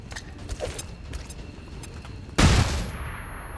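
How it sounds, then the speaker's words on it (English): A flashbang grenade bursts during XCOM 2 combat: one sudden loud blast, broad and bright, that tails off over about a second, after quieter scattered clicks and low game rumble. "Come on, flashbang."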